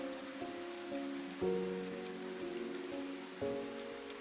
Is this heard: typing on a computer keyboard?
no